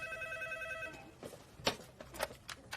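A telephone bell rings in a repeated trilling burst during the first second of a dubbed crime thriller scene, then stops as faint movement and room sounds follow.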